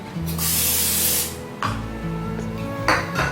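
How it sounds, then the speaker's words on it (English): Two quick bursts of aerosol cooking spray hissing close up onto a kitchen counter, the first about a second long and the second shorter, followed by a faint third puff. "I'm just going to spray my counter with a little bit of cooking spray"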